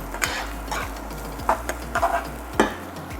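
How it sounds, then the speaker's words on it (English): Aromatics and minced garlic sautéing in a pot for a Trinidad-style provision oil down, a steady low sizzle with a few sharp stirring scrapes and spoon knocks against the pot, close and fairly quiet. "Immediately you're going to start to hear that nice sauteing sound."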